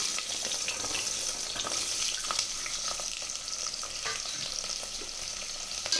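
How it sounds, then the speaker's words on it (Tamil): Whole small shallots sauté in hot oil in a pan for a country chicken curry, a constant bright sizzle with occasional stirring scrapes, close and steady throughout with no voices. "இது நல்லா ப்ரௌன் கலரில் வர வரைக்கும் நல்லா வதக்கி விட்டுக்கோங்க"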